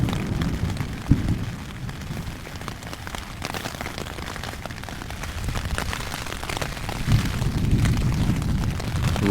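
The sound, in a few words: thunderstorm over Lake Kivu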